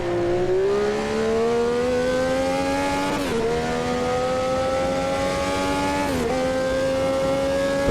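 A Brabham BT46B fan car in Automobilista 2 sweeps through high-speed corners, its engine a loud sustained whine that climbs steadily, dipping sharply at two gear changes before rising again.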